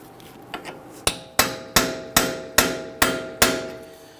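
A heavy-duty punch is struck repeatedly with a hammer to break free an axle nut on a 2010-2019 Ford Taurus rear wheel hub: about eight sharp, ringing metallic blows at an even pace, close and loud.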